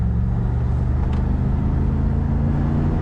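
A 1988 Chevrolet Camaro IROC-Z convertible accelerates with its automatic transmission kicking down, a loud, steady, low engine rumble heard from inside the car without any speech.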